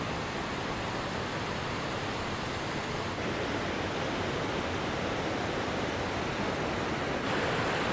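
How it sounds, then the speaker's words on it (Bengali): A waterfall in dense forest at Deokund, a steady broadband rush of falling water heard at moderate distance, unbroken and without voices. "ওইদিকে ঝর্ণাটা আছে, দারুণ লাগছে।"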